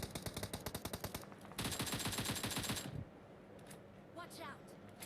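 Automatic gunfire sprayed in a squad-battle video game, with two rapid bursts of close, loud shots, the second denser, then quieter game sounds after.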